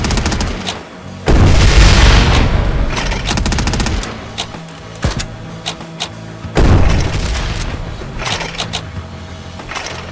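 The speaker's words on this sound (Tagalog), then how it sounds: "Meron palang kanyon eh." Cannon fire in the zombie video game Quarantine Zone The Last Check: two heavy booming blasts about five seconds apart, each loud and broad, amid rapid gunfire clicks and game noise.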